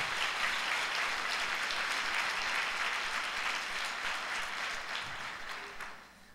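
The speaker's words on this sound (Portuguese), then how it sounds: "dê um aplauso ao Senhor Jesus" A church congregation claps in praise of Jesus, a sustained, even wash of many hands filling the room, easing slightly toward the end before a sudden sharp sound at the close.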